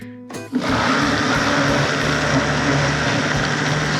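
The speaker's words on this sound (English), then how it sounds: "then we're just gonna blend this up" A blender whirs loudly and steadily, puréeing melon and lemon for popsicles after a brief start-up, the motor's dense roar holding constant to the end with no voices.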